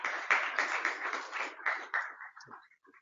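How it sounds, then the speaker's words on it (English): An audience at a cryptography meetup applauds a speaker, a dense burst of clapping that tapers off into a few scattered claps near the end. "Let's give him a nice round of applause."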